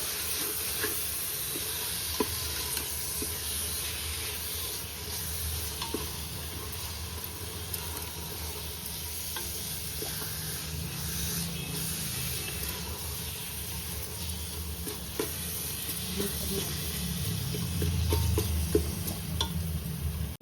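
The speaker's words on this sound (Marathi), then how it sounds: "मस्त ढवळून आता" Pav bhaji being stirred in a pan, a steady soft sizzle and hiss with scraping spoon strokes throughout, growing slightly louder near the end.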